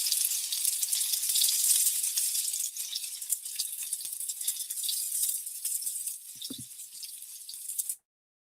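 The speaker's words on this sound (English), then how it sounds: "We're going to an ASMR chicken frying video." Chicken frying in hot oil, a steady loud crackling sizzle that fills the clip close up, with a few faint drips and rattles, then stops abruptly near the end.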